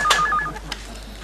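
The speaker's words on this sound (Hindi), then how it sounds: "मैं फोन करके बोलती हूँ" Telephone keypad tones pulse quickly, a few short beeps in a row, followed by a single click, close and clear with no talking.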